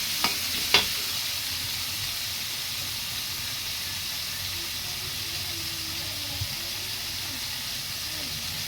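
Bitter gourd with egg frying in a pan gives a steady soft sizzle and hiss, with two sharp utensil clicks near the start and otherwise an even, close frying texture.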